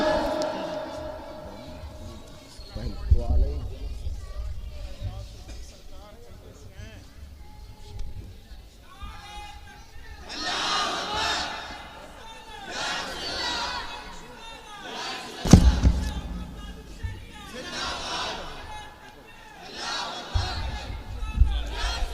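A crowd at a religious gathering roars back Takbir and Risalat slogans in loud, rhythmic bursts following a leader's calls, with a sharp thump partway through and murmuring voices between the chants.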